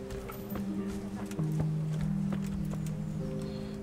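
Horse hooves in the medieval game Kingdom Come: Deliverance, a few soft clip-clop steps under a steady tonal game soundtrack, fairly faint in the mix.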